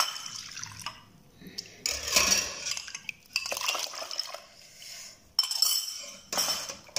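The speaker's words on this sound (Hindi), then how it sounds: "मिक्स कर ले दही मिला के सही तरह।" A spoon stirs yogurt in a bowl, giving off clinking metal-on-dish taps and soft wet scraping in uneven bursts, close and fairly quiet.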